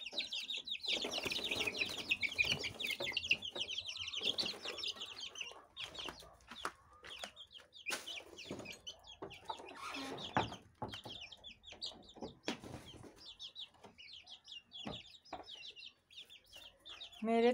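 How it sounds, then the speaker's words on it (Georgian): Chickens cluck steadily and loudly at close range while being fed grain, with busy overlapping calls and occasional wing flaps throughout. "დაუყაროთ ქათმებს."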